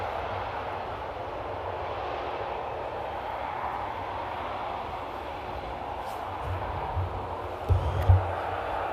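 A KLM airliner lands at Amsterdam Airport in rain and crosswind, its engines giving a steady, distant roar of reverse thrust over low rumbling wind, with a couple of louder thumps near the end.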